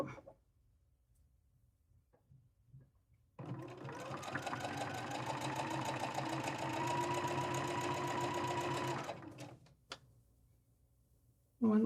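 Sewing machine stitching a seam along the top of a drawstring bag with the right sides together, one steady run of close motor hum lasting several seconds, preceded and followed by quiet handling knocks.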